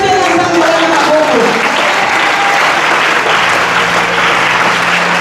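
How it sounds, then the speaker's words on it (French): Church congregation applauding loudly for Jesus during a sermon, dense sustained clapping throughout, with a voice briefly audible at the start. "Acclame bien Jésus"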